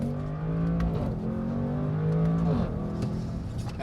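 A 2022 Bentley Bentayga S SUV engine pulls hard under acceleration, its droning pitch rising through gear changes, heard from inside the cabin.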